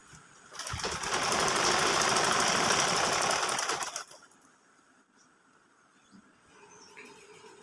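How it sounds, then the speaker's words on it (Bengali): A sewing machine double-stitching the shoulder seam of a child's salwar kameez runs in a steady fast whir for about three seconds, then stops, leaving faint room noise. "এবার আমি শোল্ডার জয়েন করে নিব আর এখানে হচ্ছে আমি ডাবল সেলাই করে নিচ্ছি"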